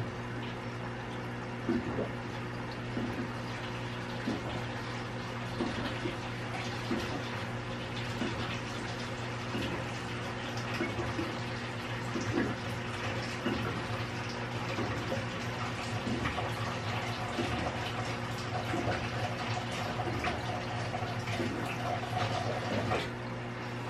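Water runs steadily from a tap for the whole stretch, a continuous rushing flow with faint clinks and knocks in the background.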